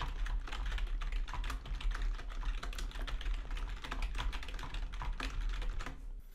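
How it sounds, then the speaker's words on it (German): Rapid, continuous clicking of a computer keyboard being typed on, picked up through a Shure SM7B dynamic microphone, with dense, uneven keystrokes close and clear and no talking. "ich tippe die ganze Zeit fröhlich auf meiner Tastatur herum"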